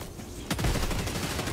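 An anti-aircraft SAM turret fires in the Helldivers video game, a sudden burst of rapid, loud launch blasts and rumbling booms that start abruptly and keep rolling on without pause.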